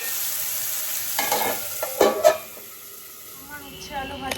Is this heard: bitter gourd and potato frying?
yes